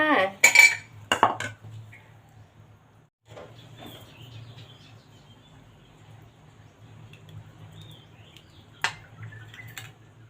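Dishes and utensils clink and scrape while thick Thai tom yum soup with tubtim fish is ladled and served. Sharp clatters come first, then softer scooping sounds and occasional clinks, with faint bird chirps in the background.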